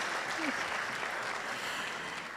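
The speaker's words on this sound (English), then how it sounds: "Let's clap for them." An audience clapping for graduates at a cybersecurity graduation ceremony, a soft, steady patter of many hands that runs briefly at an even, fairly distant level.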